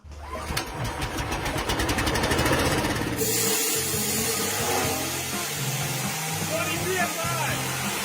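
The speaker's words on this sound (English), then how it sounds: "I have to get my compressor started" An air compressor's motor starts up and runs, a loud mechanical chugging that settles into a steady drone, with people talking over it.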